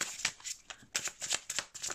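Tarot cards being shuffled by hand in repeated quick riffling bursts, close and fairly loud, with no talking.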